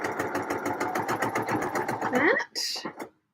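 Domestic sewing machine running steady stitches through a dress project with a ruffle, a fast buzzing rhythm for over two seconds before stopping, with talk over it.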